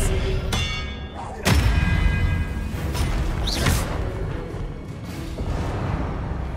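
The Expelliarmus spell fires in Hogwarts Legacy with a sharp whooshing burst, followed by a heavy thud and a lingering magical ring, set against game ambience.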